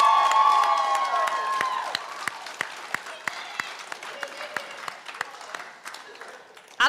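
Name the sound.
applause and cheering for graduating class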